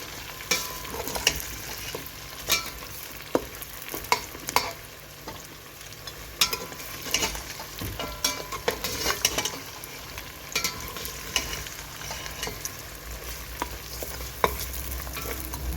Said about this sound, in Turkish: Salçamızı da şöyle kavuralım güzelce.